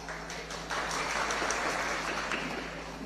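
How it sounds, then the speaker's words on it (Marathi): A crowd at a political election rally applauds, a sustained wash of clapping that rises after a brief start and carries on fairly evenly, heard at a moderate distance. "तुम्ही ऐकलंच नाही, टाळ्या वाजल्या।"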